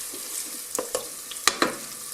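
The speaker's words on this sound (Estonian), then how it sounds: "Nagu te kuulete, praadime nüüd käib." Onion sizzles as it fries in a multicooker, with a soft constant crackle broken by several sharp scrapes and knocks of stirring, loud and close with no one talking.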